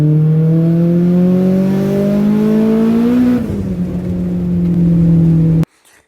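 A turbocharged Honda Prelude with an H22 engine revs up, its pitch climbing smoothly before dropping back and settling into a loud, steady drone that cuts off abruptly at the end.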